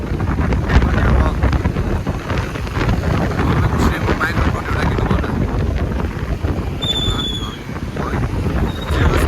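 Strong wind buffeting a microphone outdoors, a continuous loud rumbling roar throughout, with faint chirps near the end.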